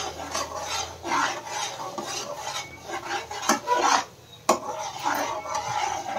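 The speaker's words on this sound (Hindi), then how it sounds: "इसको अच्छे से फ्राई कर लो जो मसाला बनाया है हमने" Ground masala for pav bhaji frying in a pan while being stirred, with scraping, rasping strokes of a spoon against the pan and a few sharp clinks, close and steady, with no talking.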